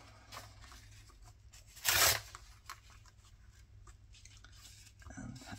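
Shipping paper from a dog food bag is torn by hand to make ruffles, giving one loud, brief ripping burst amid quiet rustling.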